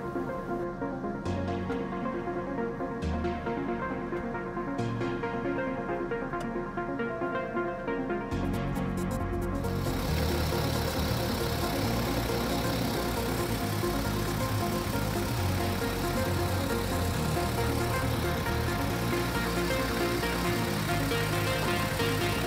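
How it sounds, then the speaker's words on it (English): A car idles steadily with a ZF8HP eight-speed automatic transmission being shifted through its gears; a continuous mid-pitched engine hum with a brief change in tone partway through, no talking. "With the engine running, shift through the entire range of gears."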